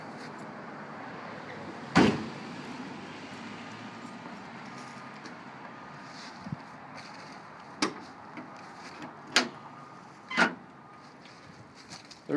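Trunk of a Ford Gran Torino Sport being opened: a sharp latch clunk, then a few quieter knocks and clicks spaced apart against a faint background.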